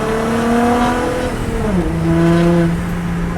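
A car engine revs loudly nearby, its pitch climbing, dropping after a shift, then rising again, with no voices.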